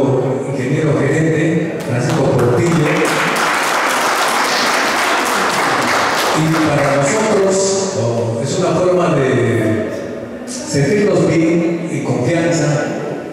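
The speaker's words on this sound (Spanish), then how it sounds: "Y otro voto de aplauso para nuestro ingeniero gerente" Municipal gathering audience applauds an engineer manager, a dense wash of clapping that rises, dips briefly, then swells again, with voices talking over and between the bursts.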